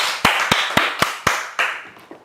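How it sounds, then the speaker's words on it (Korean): Applause from a church congregation during a Korean sermon, heard as a short burst of sharp, fairly loud claps in an uneven rhythm before thinning out. "박수."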